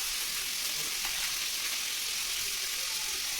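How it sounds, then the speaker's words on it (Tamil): Spices with ginger-garlic paste sizzle in hot oil while tempering for a South Indian kuzhambu, a steady bright frying hiss up close with faint stirring and no talk. "குழம்புக்கு தாளிக்கலாம்."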